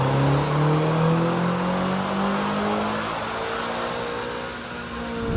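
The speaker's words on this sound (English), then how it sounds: "let's go ahead and dyno it and see what gains we can get off 91 octane" A tuned Land Rover Defender Octa running on 91 octane on a dyno, its engine loudly revving and climbing steadily in pitch through the gears as a sustained, close roar.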